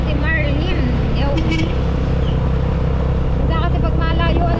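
A tricycle motor idles in a steady, close, low rumble throughout, with people talking over the engine.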